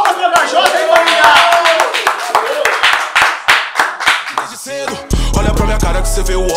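An audience at a rap battle claps in a dense, steady burst of hand claps that slows into rhythmic, separate claps, with voices talking over it, and then a beat starts.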